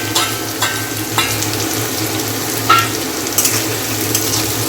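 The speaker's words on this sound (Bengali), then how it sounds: "পেঁয়াজটা সুন্দর করে লাল লাল করে ভেজে নেব।" Two medium chopped onions fry in a pan with almost no oil, giving a steady close sizzle with a few brief stirring scrapes and clicks. Nobody speaks.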